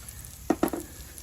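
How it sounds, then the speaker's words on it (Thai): Chopped garlic stir-fried in butter in a pan, heard as three quick, close scraping strokes over a soft sizzle, then quiet. "แล้วก็ผัดให้หอมนะครับ กระเทียมกับเนยพัด รวมกันก็หอมดีเหมือนกันนะครับ"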